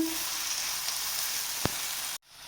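Tomato paste and red pepper fry in a hot pan for chakhokhbili, a steady close sizzle with a brief sharp tap near the end before it cuts off, no talking.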